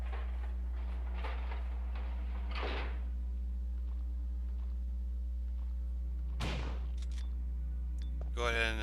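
Elevator ride in the Resident Evil video game: a steady, low mechanical hum runs throughout, broken by a few sharp clanks and thuds. The sound is quiet and has no talking.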